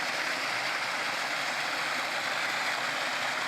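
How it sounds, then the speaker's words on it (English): Steady broadband rush of a garden waterfall in an arboretum's waterfall garden, continuous and even, heard at moderate distance with no voices over it. "I love the waterfalls, the fountains."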